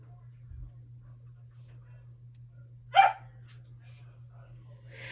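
A single short, high yip from a small dog, faint against a steady low hum, with a softer yelp trailing near the end.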